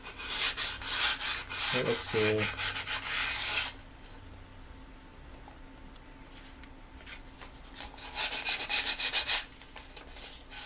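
Light hand sanding of table tennis rubber edges to remove burrs, heard as two short bursts of soft rubbing scrapes separated by a quiet pause, with a brief spoken comment.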